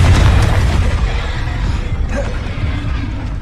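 Booming spell blasts from Hogwarts Legacy gameplay on PS4 Pro, a loud rumbling burst at the start that fades into a sustained low roar over a few seconds, with no voices.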